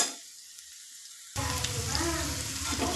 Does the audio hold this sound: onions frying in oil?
yes